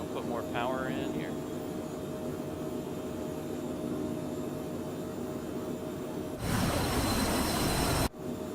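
The jet engine of a Phenom in Microsoft Flight Simulator hums steadily, then swells into a loud broadband roar as power increases before cutting off abruptly, with a voice talking briefly at the start.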